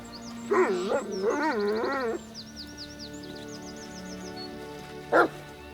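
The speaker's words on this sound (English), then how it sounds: "I don't trust this dog." A dog barks in Pathfinder: Kingmaker, a fantasy role-playing video game, giving two loud bursts of howling, bleating barks early on and one short sharp bark near the end over a steady ambient game soundtrack.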